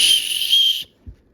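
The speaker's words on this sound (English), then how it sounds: "use that as a whistle to call for safety or let somebody know where you are" A small survival whistle built into a backpack strap gives one short, shrill, loud blast lasting under a second, followed by a faint thump.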